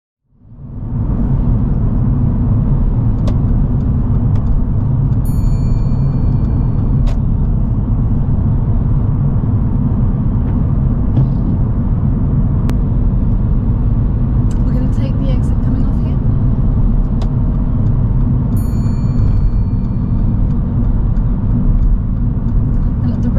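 A car cruising in the middle lane of a motorway, heard from inside as a steady, loud low road rumble and tyre roar that continues without a break.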